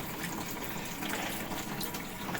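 Water leaking in a kitchen rushes and splashes in a constant, close hiss with no break and no voices.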